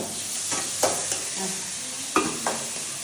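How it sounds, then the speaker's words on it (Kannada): Tomato and ginger garlic paste fry in a pan for a Karwar-style prawn gravy, giving a steady close sizzle broken by a few sharp scraping stirs, with no talking. "ಫಸ್ಟ್ ಟೊಮೊಟೊ ಹಾಕ್ಬಿಡ್ತೀನಿ, ಬೆಂದ್ಬಿಡಲಿ ಆಯಿತಾ?"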